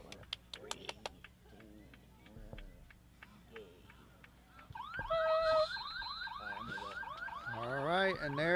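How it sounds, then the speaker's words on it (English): At a 2024 boys varsity high school soccer game, a loud electronic end-of-game buzzer blares from about the middle of the clip to the end, following quieter crowd noise, with a commentator talking. "there's the buzzer"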